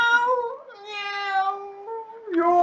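A cat meows in a long, drawn-out call, close and clear, with one more short meow at the end and no voices over it.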